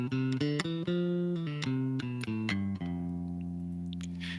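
Electric bass plays the F Lydian mode as a run of distinct plucked notes, one after another at a steady pace, then rings out on a final sustained low note, clear and close with no talk.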